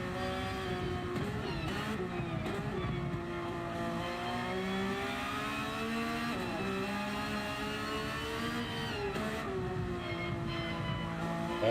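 Race cars at the 24-hour Nürburgring endurance race, including a Ferrari on medium tires and an AMG, drone and rise in pitch as engines rev steadily and pass, continuous and loud throughout.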